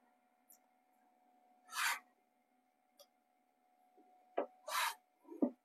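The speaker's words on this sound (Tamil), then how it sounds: "இப்போ நான் சைடு ஸ்டிச்சிங்க்கு மார்க் பண்ணிக்கிறேன்." Short scratchy strokes of a marker on blouse fabric, marking the side stitching line, come in a few separate quiet rasps over a faint steady background hum, close by with no talk.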